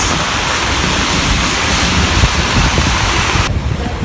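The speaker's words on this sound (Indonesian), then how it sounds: "Hujannya makin deras." Dense, steady roar of heavy rain mixed with gusting wind noise, loud and continuous, cutting off abruptly near the end.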